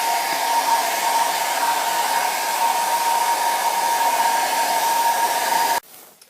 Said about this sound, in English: So if you are in a hurry, you can use the fan.